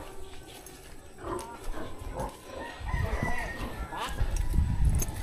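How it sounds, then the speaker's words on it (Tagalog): Chickens cluck and a rooster crows amid market noise in Calaca, Philippines, with a dog whimpering and people talking nearby, growing busier toward the end. "Ang daming manok."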